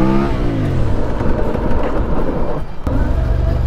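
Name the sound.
CF Moto 450 MT motorcycle engine while riding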